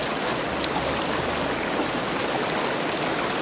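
A river stream rushes steadily outdoors, a dense, constant broadband wash of flowing water, close and loud with no break and no voices.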